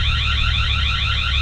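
A Tapo C500 security camera's motion-detection alarm wails continuously, a loud, steady electronic siren sweeping up and down in rapid repeating cycles over a low background hum.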